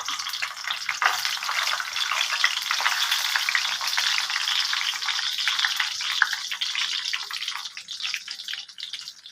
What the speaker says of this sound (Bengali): তেল গরম হয়ে এসছে, বড়িগুলো দিয়ে দিলাম।